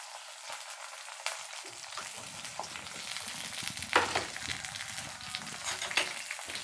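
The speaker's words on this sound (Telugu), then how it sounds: "ఇవి కూడా ఆయిల్లో కొంచెం ఫ్రై అవనివ్వాలి." Vegetables, including green chillies, frying in oil for a broad bean and tomato curry, a continuous quiet sizzle with small crackles and an occasional sharper pop.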